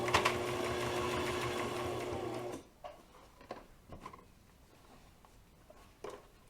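A sewing machine stitches an owl purse, running in a steady fast whir for about two and a half seconds before stopping abruptly, followed by quiet handling taps and fabric rustles.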